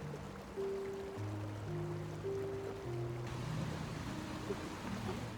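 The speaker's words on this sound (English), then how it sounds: "The waterfall partially freezes, creating these cool ice formations with water rushing all around them." Water rushes steadily around the ice formations of a partially frozen waterfall, a constant broadband wash that continues under low sustained tones.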